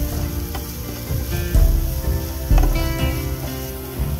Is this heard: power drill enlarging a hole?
no